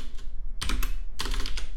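Computer keyboard typing in two quick bursts of clustered key clicks, close and fairly loud over a low hum, with no talking.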